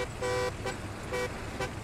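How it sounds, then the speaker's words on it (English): Car horn in the WWII shooter Hell Let Loose, sounding four times: two longer blasts and two short toots, loud and close over a low engine drone. "Why are you honking the car?"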